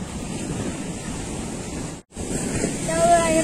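Ocean waves breaking at Kelingking Beach on Nusa Penida, a close, steady roar of surf mixed with wind buffeting, briefly cut out for a moment midway, with a faint whistle-like tone near the end.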